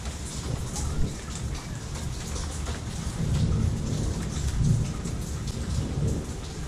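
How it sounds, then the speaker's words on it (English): Steady heavy rain pours across the whole stretch with a deep, rolling rumble of thunder swelling underneath, strongest midway and again near the end, with no talking. "Oh, there's thunder."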